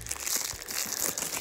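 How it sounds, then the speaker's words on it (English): Plastic shrink wrap being peeled and crinkled off a PlayStation 5 game case, a close, continuous rustling and crackling with small crunchy bursts throughout. "let's take this out of its wrapping. Let's just unwrap this up then."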